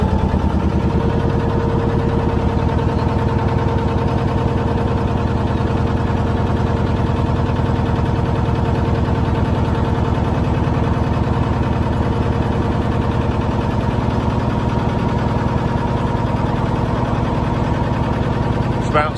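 A narrowboat's steady, loud engine drones and chugs continuously with a low rumbling throb and faint mechanical whine, unchanging throughout.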